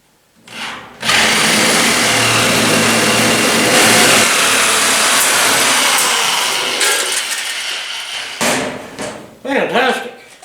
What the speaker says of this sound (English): Pretty hefty looking metal. Let's see how our shear likes it.